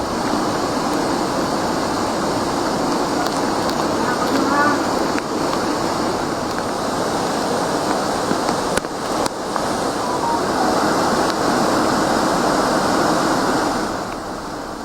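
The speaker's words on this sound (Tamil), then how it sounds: "தொடர் வெள்ளப்பெருக்கால் ஆக்ரோஷமாக பாயும் குற்றாலம் பேரருவி." Courtallam main waterfall in flood roars with a dense, loud, steady rush of cascading water that fills the whole stretch without pause.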